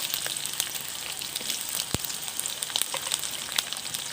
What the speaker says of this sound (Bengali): আমি পেঁয়াজ আর ক্যাপসিকামটা বেশি ভাজবো না, হালকা করে ভেজে নেব